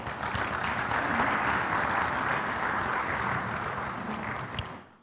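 A large delegate audience at the AFC Congress election gives a sustained round of applause, dense and steady from start to finish before fading out near the end, with no talk over it.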